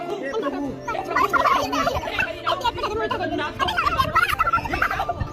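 Poultry calls, squawking and gobbling in a busy overlapping chorus, with a crowded outdoor background throughout.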